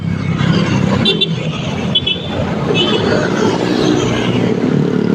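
Steady roadside traffic with cars passing near a pedestrian crossing, a continuous loud rumble of engines and tyres with occasional swells as vehicles go by and a faint horn-like tone.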